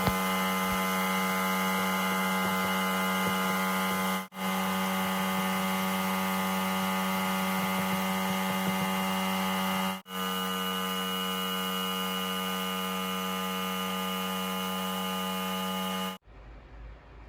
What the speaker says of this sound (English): That's just the sound of the compressor going in the background.